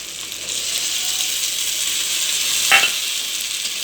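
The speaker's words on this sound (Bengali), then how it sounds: "এটাকে ভালো করে কষিয়ে নিতে হবে।" Spice masala with added tomato paste sizzles and fries steadily in a pan for mackerel curry, a continuous close hiss with a brief scrape of stirring near the end.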